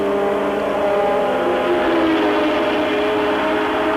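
Formula 1 race cars of 1985, a Ferrari driven by Johansson overtaking Prost's car, give a steady, loud high-pitched engine whine with strong tonal harmonics that holds without a break, with no voices over it.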